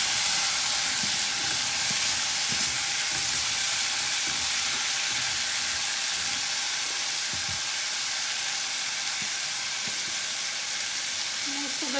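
Cauliflower and potato curry with ginger and chillies sizzles steadily in a hot pan, a constant loud frying hiss with soft scraping stirs underneath, no voices.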